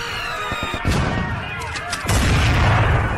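Loud gunfire and booming blasts from a battle sound effect in a staged colossal drama at a Hari Santri commemoration, with sharp volleys early and a heavy sustained rumble after a big blast, no voices.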